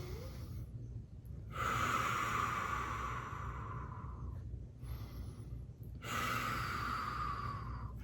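Slow, deep breaths drawn in and pushed out during a cheek massage, heard close and soft as long airy inhales and exhales with quiet pauses between them.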